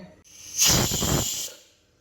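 A pressure cooker whistle, cooking moong dal, lets out one sharp, loud hiss of steam lasting about a second, then fades into quiet.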